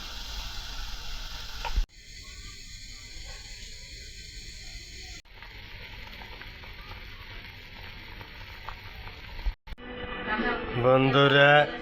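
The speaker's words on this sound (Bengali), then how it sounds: "একটু পানি দিয়ে দিলাম, আগে কষাইয়া নেব" Dried fish curry with a little added water sautés in a pan in a Bangladeshi kitchen, a steady soft sizzle and hiss broken by short pauses, ending in brighter clattering stirring.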